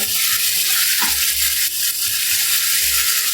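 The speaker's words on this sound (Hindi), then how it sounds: "चिकन को कलर चेंज होने तक पकाएंगे हम।" Chicken frying in a pan gives a loud, steady sizzle throughout, broken by repeated scraping strokes as it is stirred, with no one talking.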